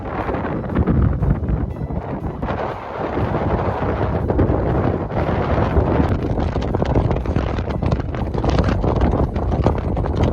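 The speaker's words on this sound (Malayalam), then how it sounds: "ശക്തമായ കാറ്റ് വീശാൻ തുടങ്ങി" Strong wind roars steadily and loudly into the microphone, a dense continuous buffeting rush with gusty swells that barely lets up.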